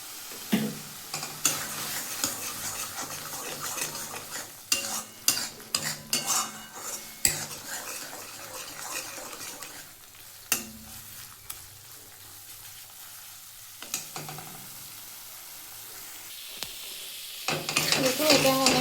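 Chopped banana stem fries in a pan while a utensil stirs and scrapes it, giving sharp irregular metallic clinks over a soft background sizzle, close and loud in bursts with quieter pauses between.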